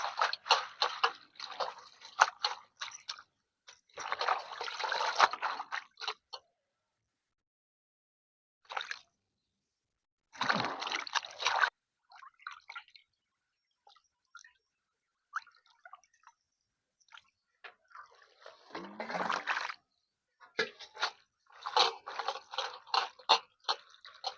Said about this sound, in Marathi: आता धुवून घेऊ स्वच्छ पाण्याने